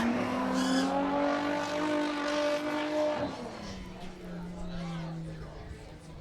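V8 race cars on a dirt track roar under steady commentary, engine notes rising and falling with a brief tire scrub midway before a lower-pitched car drones past.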